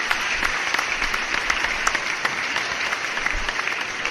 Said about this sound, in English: Extra applause.